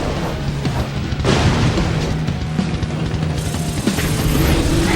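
Missile explosions in the racing video game Jak X, Red Eco Cup: heavy booms and crashes over continuous loud engine roar, with a sharp burst near the start and another toward the end.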